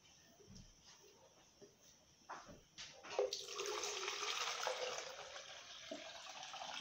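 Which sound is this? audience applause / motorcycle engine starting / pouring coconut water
pouring coconut water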